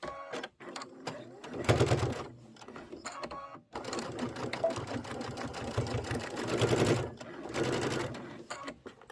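Close-up stitching of a pillow seam on a sewing machine comes in uneven bursts, with brief stops between runs of rapid, buzzing needle strokes.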